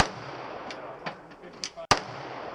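Handgun shots firing .40 Winchester Ranger ammunition at a shooting range, a few sharp cracks, with one loud close report standing out above quieter pops.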